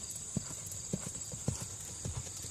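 Horse cantering in a riding arena, rhythmic hoofbeats on soft footing repeating about every half second, moderately close over a steady background hum.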